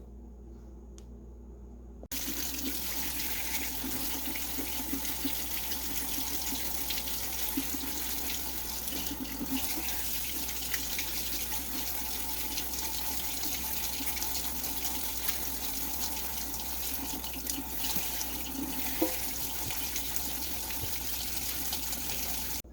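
Tomato seeds rinsed under a running kitchen tap, a steady close gush of water into a sink that starts suddenly after a brief quiet lead-in and runs on evenly without speech.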